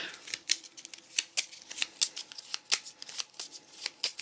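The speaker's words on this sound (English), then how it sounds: "let me just draw my cards here, my really bad shuffle job." Dune: Imperium game cards are shuffled up close in a quick run of crisp, riffling flicks and taps, repeating unevenly with no voices.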